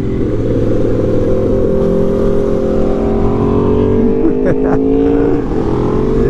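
A 2024 Aprilia RSV4 Factory sport bike runs loud and close on a damp road, its engine note climbing and holding in a sustained rev with a faint shift near the end.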